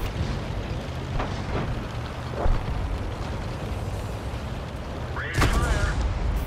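A T49 tank gun firing in a tank battle video game, with a low rumbling background, a muffled boom early on and a louder, sharper blast near the end.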